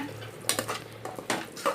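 A spoon scrapes and clinks against a metal pot while dal is stirred with spices, a few distinct knocks over a low background hum, with no talking.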